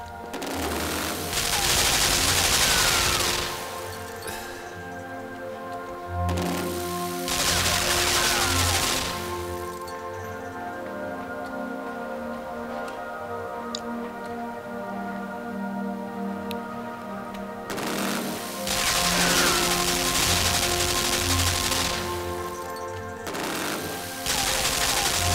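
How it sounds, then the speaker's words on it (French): Machine-gun fire in the video game Limbo, a vertical gun shooting down a horizontal one: loud rattling bursts come in several separate volleys of a few seconds each, with quieter droning and ticking stretches between them. "on va faire en sorte que la mitrailleuse verticale détruise la mitrailleuse horizontale"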